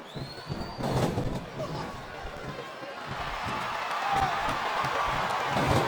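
Arena crowd noise from the wrestling video game WWE SmackDown vs Raw 2007, during a Triple H vs Shawn Michaels vs Chris Benoit title match, a steady roar of fans that swells toward the end, with commentators talking over it.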